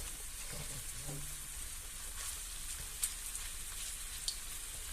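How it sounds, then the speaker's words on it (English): Mini meatballs sizzle and fry in a hot pan as they brown all round, a steady close crackle with a couple of brief sharp pops. "I will add the meatballs in because I want to brown them off all round"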